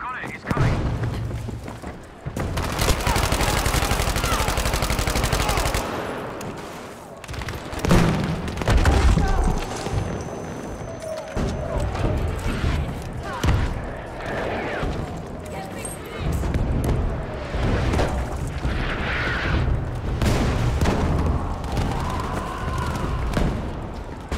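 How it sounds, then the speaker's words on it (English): An artillery barrage rumbles through a Battlefield 5 conquest match, with deep booms and thuds spread across the scene over a continuous roar of battle noise, while voices speak over the explosions. "squad needs an artillery barrage right away"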